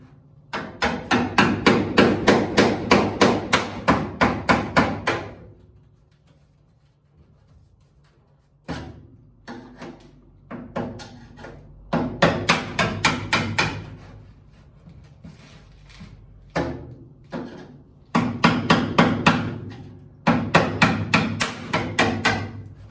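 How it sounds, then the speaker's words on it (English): Bursts of rapid, sharp metallic hammering repeat in several loud clusters as spot welds snap free from a drilled-out floor panel of an MG Midget, separated by brief pauses and quieter knocks. "Kind of hear that snap, that loud snap."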